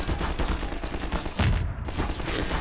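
Grenade explosions and combat in the video game Half-Life 2: dense, continuous rumbling bursts of gunfire-like blasts, loud and close, with a heavier low thump around the middle.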